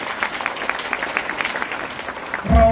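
Applause bursts from an audience at a celebration event in Thailand, a steady patter of clapping through most of the stretch with a louder, fuller swell near the end.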